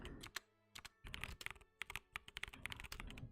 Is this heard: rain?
no